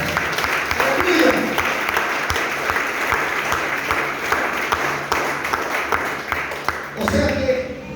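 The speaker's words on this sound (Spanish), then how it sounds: "Aplauda a Dios" A church congregation applauds God, a dense wash of clapping that runs steadily and loud for several seconds, swelling again near the end, with voices mixed into the crowd noise.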